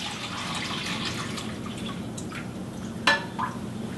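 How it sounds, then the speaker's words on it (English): Vodka is poured from a bottle into an easy-pour container over fresh lemon zest for limoncello, a steady close trickle of liquid with a sharper splash and glassy knock near the end. "Now, so we're going to pour it into an easy pour container."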